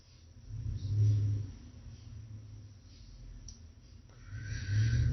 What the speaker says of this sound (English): everything's closed down, but I'm hearing cars.